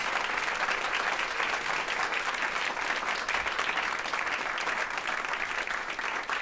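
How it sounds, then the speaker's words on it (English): A large audience gives a loud, sustained round of applause at a live stage event, a dense unbroken wash of clapping from start to finish. "Loud round of applause."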